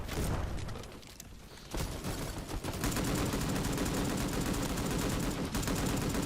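Gunfire in the Roblox game Bad Business, loud and close, rapid automatic bursts run densely through most of the stretch, with a short lighter passage before the firing resumes.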